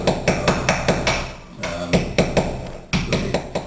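A hammer whacks a chisel or tool to break out a glass block from a wall, giving a run of sharp, evenly spaced metallic strikes, loud and close, with a brief pause partway through.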